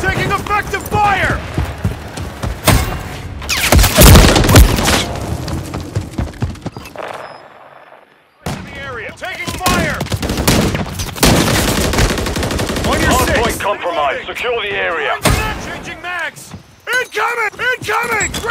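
Call of Duty Modern Warfare 3 gameplay: dense, loud bursts of automatic gunfire and explosions with a short lull, while game voices shout callouts over the combat.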